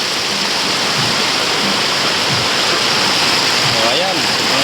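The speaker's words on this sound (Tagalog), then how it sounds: "Ayan na sa loob ng bahay yung tubig" Floodwater rushing like a river into a house and along a rural road in the provinces, a loud, continuous roar of flowing water filling the scene with a voice speaking over it.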